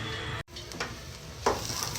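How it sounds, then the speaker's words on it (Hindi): Mashed potatoes with spices added are tempered in hot oil, giving a brief sizzle and stirring clatter of a pan with a sharp hiss near the end, close and moderately loud, no talking. "अब यहाँ आलू को लगाऊंगी हम तड़का।"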